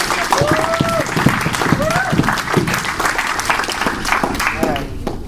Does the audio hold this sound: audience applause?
yes